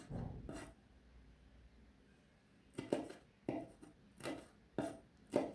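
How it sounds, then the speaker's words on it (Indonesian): A knife cuts red bird's eye chilies on the diagonal, giving a few soft thuds on the board. After a quiet gap comes a steady run of five evenly spaced, faint, close chopping taps. "ini cabai rawitnya tinggal dipotong serong aja seperti ini"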